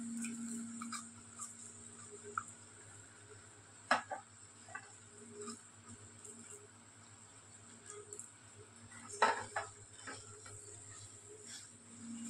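Rice grains being stirred in a cooking pot with tomato and mint for tomato rice: soft, quiet scraping with a couple of sharper clinks against the pot over a faint steady background.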